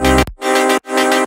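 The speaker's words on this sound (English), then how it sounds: "It's like some chords from Spire that I found, some really cool stuff." Lush synth chords from the Spire synthesizer with the lows cut, a sustained harmonic stack for a tech house track, played as three loud held chords separated by brief gaps, no voices.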